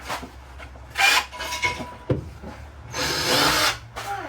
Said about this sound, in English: I'm gonna drill a little hole. It won't make too much noise, just a little bit.